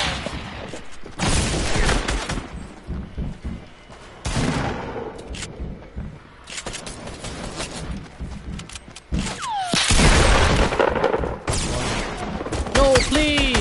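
Shotgun blasts in a first-person shooter, shot-only challenge match, coming in loud dense bursts across the clip with overlapping in-game effects, while players talk over the action.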